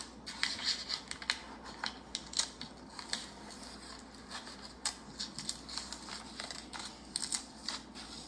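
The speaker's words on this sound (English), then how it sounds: "I cut it out." Scissors snip out a small paper word, with rapid, repeated close cuts and light paper rustles in quick irregular bursts, quiet against faint room noise.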